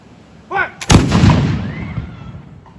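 A flintlock musket fires its black-powder charge, a faint pan-flash crackle followed by one loud, close boom that rolls off into a long echoing rumble outdoors, with no talking.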